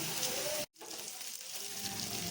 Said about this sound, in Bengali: এখানে ক্যাপসিকাম আর টমেটোগুলোকে আমি এরকমভাবে একটু হালকাভাবে ভেজে নিচ্ছি।